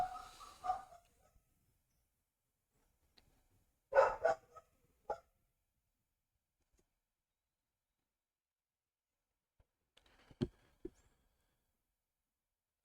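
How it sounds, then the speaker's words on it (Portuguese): A dog barks in a few short, sharp bursts, fairly distant and separated by long stretches of quiet, with a couple of small yips near the end. "Se eu ia dar um grito aqui para esse cachorro parar de latir."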